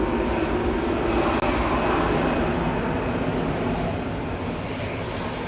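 An EasyJet airliner departing Manchester Airport for Kefalonia, a loud continuous engine roar with broad rumbling noise that holds steady and fades slightly toward the end, with a brief click partway through.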